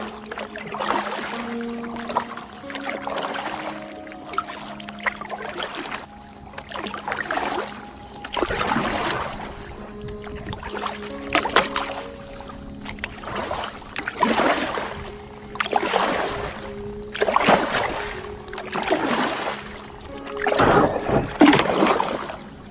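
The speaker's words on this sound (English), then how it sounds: "We're going to give another try at paddling up these shallows." Kayak paddle strokes splash and drip in a steady rhythm while the boat works up shallow tidal river water on the Croton River, each stroke a close watery swish over faint tonal hum.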